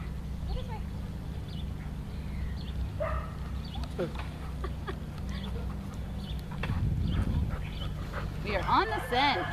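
A Treeing Walker Coonhound yips and whimpers a few times against a steady low rumble, with people talking nearby.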